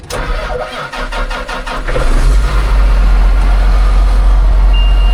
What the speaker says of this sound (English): The tractor starts better since I fixed everything.